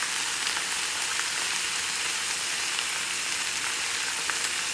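Beef browning in a pot for soup, a steady, close and even sizzle of frying meat with no talk over it.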